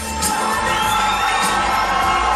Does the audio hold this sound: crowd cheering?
yes